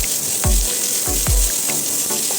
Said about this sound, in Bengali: তেল গরম হয়ে গেলে এর মধ্যে আমি দিয়ে দিচ্ছি আগে থেকে কেটে রাখা টমেটো